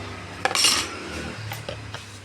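Metal clinks and clatter of a lid going onto a cooking pot, a couple of close, sharp knocks followed by softer rattles, with no talking.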